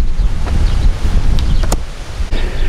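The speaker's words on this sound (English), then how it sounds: "as you can probably hear, it's quite a windy day today" Strong wind buffets the microphone in loud, rumbling gusts on open homestead land in Portugal, with a few sharp clicks and knocks breaking through the steady roar.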